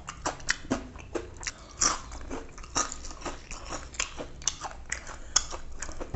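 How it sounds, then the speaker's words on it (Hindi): Crunchy fried street food is bitten and chewed up close, with repeated loud crackling crunches in an irregular rhythm and no talk. "इतना क्रंची तो कुरकुरे भी नहीं होता है।"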